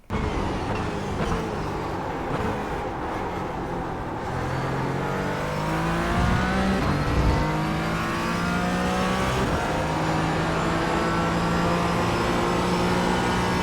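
A Porsche 718 race car engine in iRacing held at full throttle down a hill through a right-hander, a loud continuous rising roar with climbing pitch through the gears, close-up and without speech.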